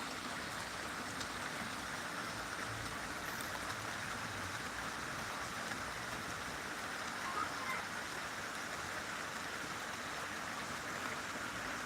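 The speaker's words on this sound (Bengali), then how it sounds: "আমাদের এখানে বৃষ্টি হচ্ছে" Steady rain falls as a continuous even hiss, fairly close and unbroken throughout, with no voices.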